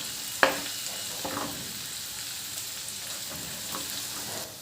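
Ginger garlic paste frying in hot oil for fish pickle, a soft continuous sizzle with a sharp crackle near the start and a few faint stirring scrapes.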